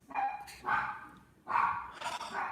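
A dog barks repeatedly nearby, sharp loud woofs in two quick pairs with a brief pause between.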